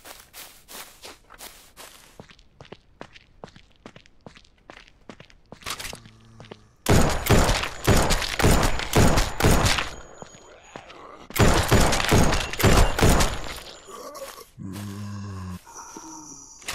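Video game gunfire at a military shooting range: a run of sharp single shots early on, then two long bursts of loud rapid automatic fire, with a few heavier thuds toward the end.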